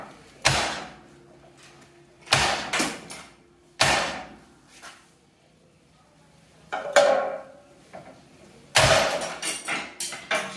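A hammer striking a car's suspension joint after the lower castle nut is removed to separate the parts, about six sharp metallic blows in irregular bursts with ringing decay and quiet gaps between.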